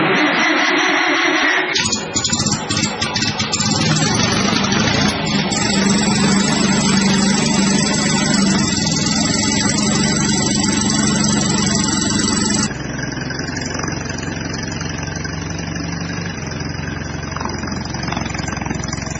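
A 1939 Caterpillar D4 crawler tractor engine running loud and close, a dense steady roar that rises in pitch as it is given throttle, then settles to a slightly quieter steady run.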